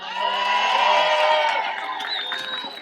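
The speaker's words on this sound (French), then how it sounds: "on va tous applaudir très fort" A crowd at a talk on South Africa's case against Israel at the International Court of Justice cheers and applauds in one loud swell, with shouts and whoops that fade toward the end.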